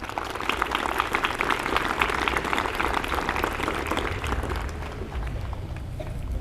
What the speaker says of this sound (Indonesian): Berikan aplaus untuk MTS.